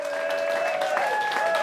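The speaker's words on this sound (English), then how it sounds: "round of applause to James O'Keefe" A studio audience on a panel show applauds in a dense, steady burst of clapping, with a faint tonal hum running underneath.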